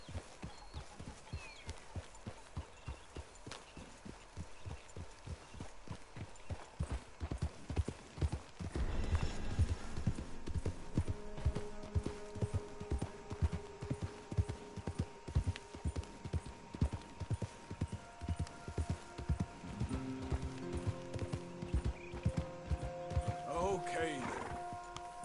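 A horse gallops in Red Dead Redemption 2, with rapid rhythmic hoofbeats that speed up and grow louder midway. Whinnies and soft tonal game sounds come near the end, and a voice speaks briefly.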